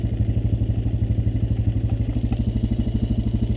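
A Honda Recon ES four-wheeler ATV putters along at low speed on a rural creekside trail, its engine giving a steady, rapid, evenly pulsing thump close to the microphone.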